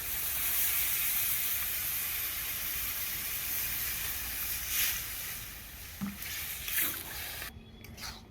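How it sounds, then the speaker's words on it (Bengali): Water poured into a hot cooking pot of mixed vegetables in a village kitchen sends up a loud, steady hiss of steam that slowly eases, with a few knocks near the end. "তো আমি কিন্তু এখন জলটা দিয়ে দিচ্ছি।"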